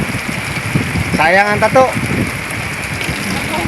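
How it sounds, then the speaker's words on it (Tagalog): Steady rain falls during a fishing trip at sea, a broad continuous hiss running throughout, with someone speaking briefly over it partway through. "Balik ulan, basta may huli."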